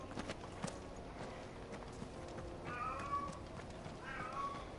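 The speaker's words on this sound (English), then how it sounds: "You guys hear my cat in the background?" A house cat meows faintly in the background, two short calls rising over steady game noise with hoofbeat-like clopping and a low ambient bed.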